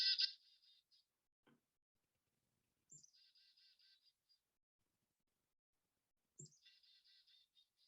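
An eastern phoebe gives its two-part seesaw call three times at spaced intervals, clear and fairly close against silence, with faint soft taps between the calls.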